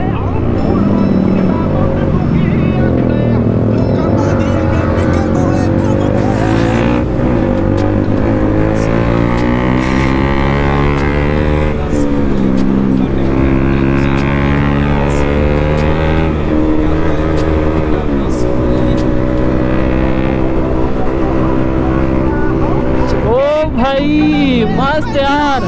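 A Kawasaki H2R motorcycle roars loudly and continuously while riding, its engine note rising and falling through gear changes, under steady wind rush and someone talking over it.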